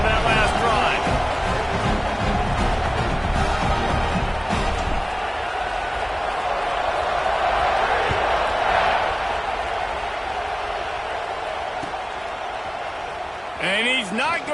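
A loud, dense roar of a stadium crowd at an Auburn versus UT college football game during a kickoff, steady throughout, with a commentator's voice running over it.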